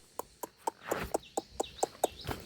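Chickens cluck at a farmyard in a quick run of about nine sharp, fairly close calls, with a little rustling between them and no talk.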